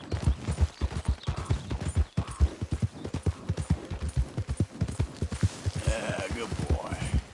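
Horse hooves trot in a steady, rapid clip-clop rhythm across Red Dead Redemption 2 gameplay on PS5, loud and close throughout, with some talk and faint ambient game sounds under the hoofbeats.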